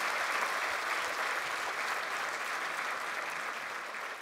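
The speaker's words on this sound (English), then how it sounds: "He deserves a big round of applause again." An audience at an annual luncheon gives sustained applause, a broad, even roar of many hands clapping at moderate distance that holds steady and tapers slightly toward the end.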